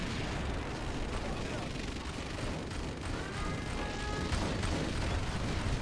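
Heavy booming hammer cannon blasts and rumbling explosions roll through a dense, noisy video game soundscape from the Shockwave mod, with a voice talking over it.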